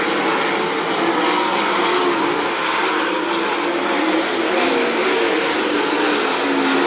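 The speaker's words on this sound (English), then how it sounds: "Byron Reed and Daniel Harding race down the front straightaway" Winged sprint cars roar down the front straightaway at the Brad Doty Classic dirt track race, a loud sustained high-revving engine howl from several cars that stays steady and close the whole time.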